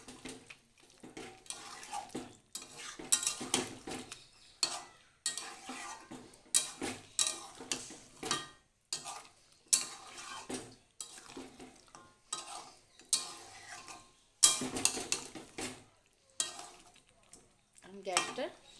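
A spoon or spatula stirs spinach paste into chicken pieces in a pan, making repeated scraping and clinking strokes in an uneven rhythm, close and fairly loud, with short pauses between strokes.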